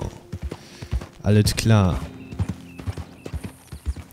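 Horse hooves clip-clopping in a steady rhythm during riding in Red Dead Redemption 2, with a loud snort or whinny burst in the middle and someone speaking briefly.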